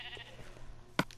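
A sheep bleating in the video game Minecraft: one short, clear bleat near the end, loud and close, after a stretch of quiet ambient game sound.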